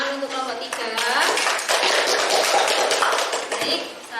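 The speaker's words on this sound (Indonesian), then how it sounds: "Tepuk tangan untuk kelompok 3." A classroom of students clapping after a group presentation, with close, uneven hand claps and some voices mixed in, fairly loud throughout.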